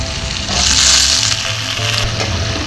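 Shallots and green chillies sauté in a hot pan for a dried-fish curry, giving a loud, close, hissing sizzle that swells briefly as they are stirred, then settles.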